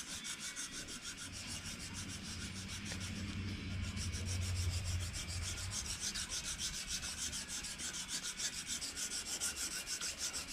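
Wood being sanded by hand with worn-out sandpaper, a steady rhythmic rasping rub repeating in quick even strokes, close and continuous with no talking.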